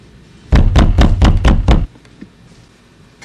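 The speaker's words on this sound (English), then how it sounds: "someone's knocking at the door." A door takes six or seven loud, rapid knocks in an even rhythm, close by, then falls quiet apart from a faint tap.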